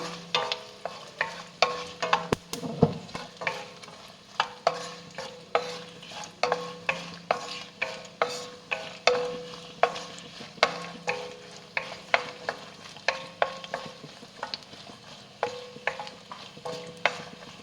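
Deseeded dried red chillies frying in hot oil for Madurai mutton uppukari, a steady low sizzle broken by a regular rhythm of spoon or ladle scrapes against the pan, close and alone without voices.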